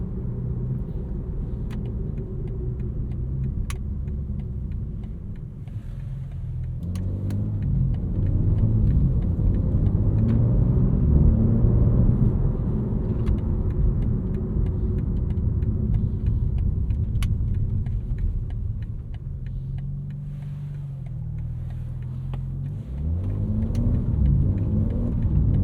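Steady low rumble of a 2025 BMW M4 CS with its S58 engine while driving at a relaxed pace, a continuous, moderately loud drone with gentle swells and faint rattles and clicks from the cabin.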